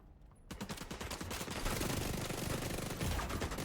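Sustained automatic gunfire in The Division 2, chest shots fired at an enemy, a dense continuous burst starting abruptly and running close and loud to the end with no talk over it.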